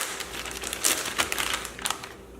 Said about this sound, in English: place the chicken breast in a large unsealed plastic bag, and we're going to pound it to,